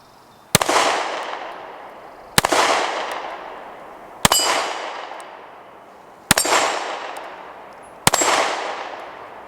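Five sharp pistol shots from a Ruger Max 9, each ringing a steel gong target with a long metallic decay, spaced about two seconds apart and loud, with no talking.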